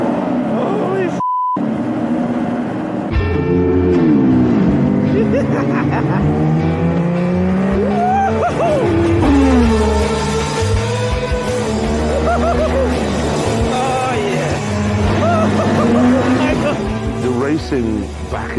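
A McLaren race car driven around track corners, its engine rising and falling in pitch through the bends as the driver talks loudly over it, with a brief beep at the start.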